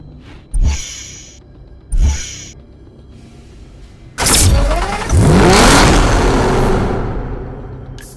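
A Porsche 918 in Need for Speed Hot Pursuit Remastered gives two short, punchy engine blips, then fires up and revs hard into a loud, sustained rising roar that slowly fades, close and with no speech.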